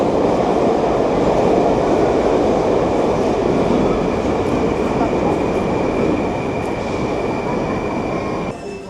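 A Tashkent metro train runs through Chorsu station with a loud, sustained rumble and faint wheel squeal, easing off at the very end.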